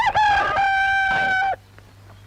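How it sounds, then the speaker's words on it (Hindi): A rooster crows once, loud and close, in a long drawn-out cock-a-doodle-doo that stops sharply, leaving a quiet low hum. "क्यों सूरदास, क्या तूने मेरे मुर्गे को कहीं देखा है?"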